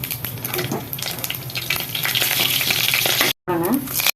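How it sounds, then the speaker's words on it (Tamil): Loud, steady sizzling of dried chilies frying in hot oil with mustard seeds and cumin, with crackles and a brief stir near the end, close up. "கடுகு வெடிச்சிச்சுங்க காஞ்சி மிளகா போடுறேன்"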